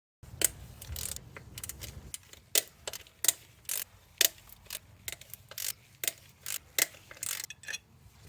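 Ten-millimetre bolts being removed from the EGR plate of a 2005 Acura TSX engine: a regular series of crisp metallic ratchet clicks and small clinks, close and fairly clear, with no talking.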